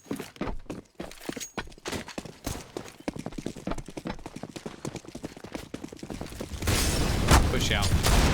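Gunshots in Counter-Strike on the Inferno map during a tournament match: a rapid string of sharp, close cracks firing in an uneven rhythm, then a louder wash of noise near the end, with a voice talking over it.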